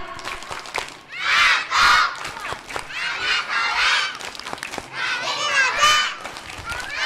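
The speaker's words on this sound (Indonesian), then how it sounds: "Yuk sekarang kita tepuk anak soleh dan soleha." A group of children chants and claps the tepuk anak soleh routine at a religious gathering, voices rising and falling in loud bursts with claps mixed in.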